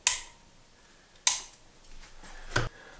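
Studio lights switching on: three sharp, dry clicks, each with a short bright tail, spaced about a second and a quarter apart in an otherwise quiet room.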